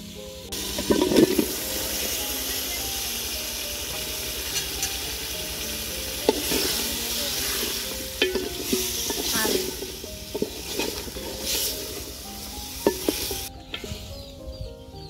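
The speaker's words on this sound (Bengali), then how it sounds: "চিংড়ি মাছটা খুব ভালোভাবে কষিয়ে নিচ্ছি" Prawns sautéing with spices in a pan: a steady frying sizzle carries clinks and scrapes of a spatula stirring against the pan, louder at moments, with faint background sounds throughout.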